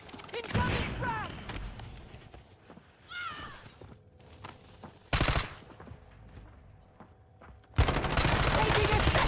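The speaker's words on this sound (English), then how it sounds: "Taking effective fire." Gunfire in Call of Duty: Warzone, several separated bursts of sharp automatic fire, some loud and close, between quieter moments of game sounds and brief voice lines.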